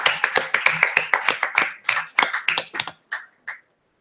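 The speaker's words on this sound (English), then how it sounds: "Please, can we give her another round of applause as she takes her seat?" A small scattering of hands claps in quick, uneven bursts at a gender and climate solutions event, close and crisp, thinning out to a couple of isolated final claps before silence.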